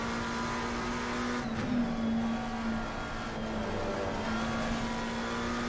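A race car engine in Assetto Corsa Competizione drones steadily and loudly with a sustained high whine, holding a near-constant pitch with only slight dips, and no one speaks over it.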